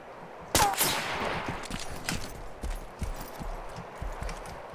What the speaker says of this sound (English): Okay, someone shooting.